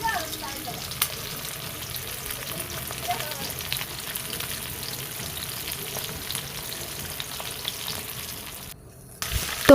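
Pabda fish frying in hot oil, sizzling and crackling steadily at close range with no pauses and no talking.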